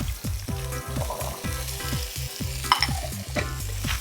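Evenly cut vegetables sizzle and fry in leftover hot oil while being stirred, with rhythmic scraping strokes of a utensil against the pan, close and steady.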